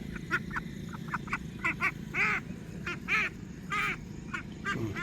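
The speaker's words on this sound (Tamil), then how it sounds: "வாத்து அங்கே இருக்குது பாருங்கள் அங்கே வாத்து இருக்குது" A flock of ducks on a duck farm quacks and honks repeatedly in irregular bursts, some calls louder and nearer, over a steady low background hum.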